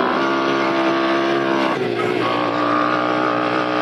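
A small 125cc Chinese motorbike engine runs steadily with a buzzy, harmonic-rich drone, its pitch dipping briefly as the throttle is let off and then picking back up as it labours.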